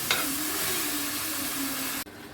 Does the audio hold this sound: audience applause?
no